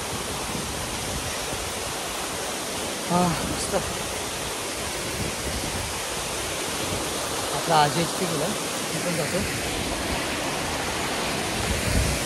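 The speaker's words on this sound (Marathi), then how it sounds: "हा नदी वाहते आपल्या मागे" Steady rushing river water flowing nearby at night, a constant broad roar, with people chatting briefly over it.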